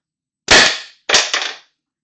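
Two sharp, loud shots ring out from a Tippmann TiPX pistol in stock configuration, firing cheap sub-4-gram balls, each a snappy pop with a brief decaying tail, about half a second apart, in otherwise silence.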